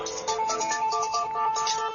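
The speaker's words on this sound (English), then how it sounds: "Sorry, my phone's ringing." A mobile phone ringtone plays on a live radio broadcast, a repeating bright electronic melody of short tones that carries on throughout, with nobody talking over it.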